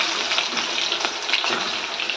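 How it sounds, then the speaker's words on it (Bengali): Raw potatoes slipped gradually into hot oil, giving a steady, close, loud sizzle and hiss that runs the whole time without a break, with no voices over it. "অবশ্যই তেলটা আমার গরম হয়ে গেছে। এবার আমি আলুগুলোকে আস্তে আস্তে ছেড়ে দেবো।"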